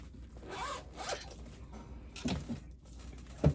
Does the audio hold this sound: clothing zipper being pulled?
yes